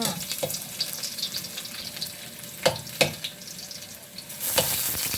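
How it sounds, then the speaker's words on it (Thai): Garlic stir-frying in hot oil in a wok, a steady sizzle punctuated by sharp scraping stirs of the spatula, with a brief flare of louder frying near the end. "มีน้ำมันสำหรับผัดนะคะ กระทะตั้งไฟเรียบร้อยแล้วค่ะ พร้อมผัดค่ะ"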